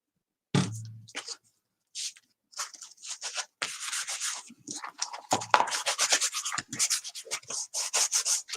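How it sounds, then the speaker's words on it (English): A small electric sander works in short bursts at first, then runs almost continuously as a rough, rubbing scrape with an uneven, pulsing rhythm, close and fairly loud. "Got my little sander."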